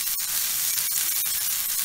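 Seasoned meat sizzling in a pan, restaurant style, a steady bright hiss of frying fat with a few soft pops and crackles and no voices.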